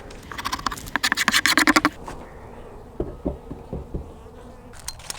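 Winter honey bees around an open beehive during fondant feeding make a faint buzz beneath loud close scratching and scraping clicks, first a rapid run of them and then scattered taps.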